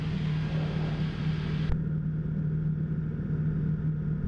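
The powerful engine of a Sirius TL-3000 light sport aircraft drones steadily and loudly on takeoff, a constant low hum with a sudden drop in hiss partway through.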